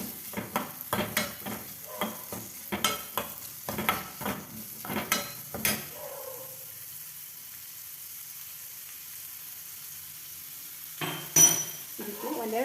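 Stirring and light sizzling of oil in a hot steel kadai, with curry leaves in it, for curd chutney: a run of short scraping, clinking strokes, then a quiet pause and a few more strokes near the end.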